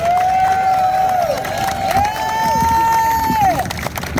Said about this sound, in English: please put your hands together in honor and give a great big round of applause to the